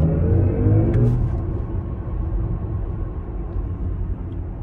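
A BMW iX M60 electric car accelerates hard, giving a low rumbling road and drivetrain roar that starts strongest and settles into a steady, moderately loud hum with no talk.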